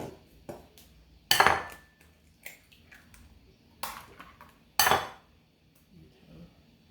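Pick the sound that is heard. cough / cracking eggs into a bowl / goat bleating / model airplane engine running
cracking eggs into a bowl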